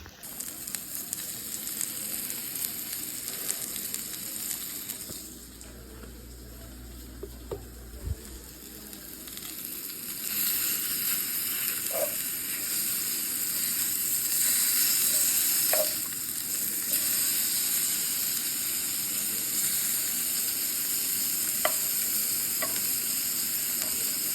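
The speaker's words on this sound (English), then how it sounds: "So we are frying spam" Steady sizzling of spam and crab meat frying in a pan, a continuous crackling hiss with occasional small pops, fairly close.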